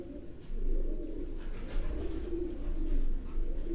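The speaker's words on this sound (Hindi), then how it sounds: "ये सब बाहर रखा है कबूतर" Purebred high-flying pigeons coo steadily in a low, throaty murmur, several birds close by with overlapping calls and no talking.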